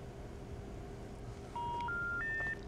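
A telephone number is dialed on a keypad: three short rising tone beeps in quick succession, clear and near over a low steady background hum.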